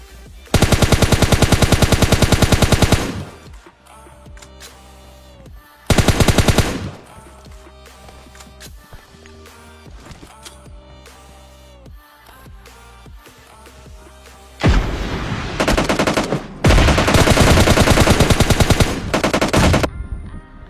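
Automatic gunfire from PUBG/BGMI mobile gameplay comes in loud, rapid bursts, with two long volleys at the start and heavier sustained firing toward the end, separated by quieter gaps.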